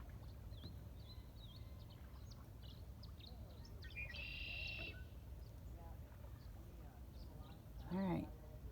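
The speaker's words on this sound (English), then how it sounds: "There's that red-winged blackbird." A red-winged blackbird calls from a marsh at a river confluence, a single bright buzzy trill at middle distance over faint water noise, with quieter chirps around it and a brief thump near the end.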